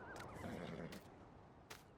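Horses neigh on a horse farm in the Farming Simulator 19 video game, a whinny rising near the start and brief game sound bursts following, with no talk over it.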